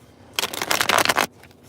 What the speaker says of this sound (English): So I'm going to shuffle these cards up